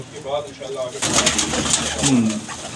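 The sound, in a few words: pigeons cooing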